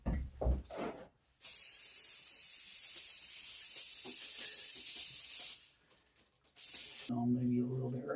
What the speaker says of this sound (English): Use some brake parts cleaner on that too.